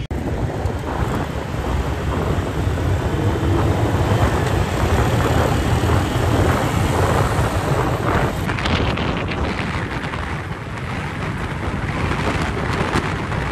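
Heavy, steady wind roar buffets the microphone of a rider on a motorcycle on a road on the way to a stadium, loud and continuous throughout with no speech.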